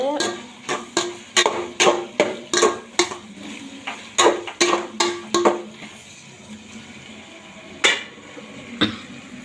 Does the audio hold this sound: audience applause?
no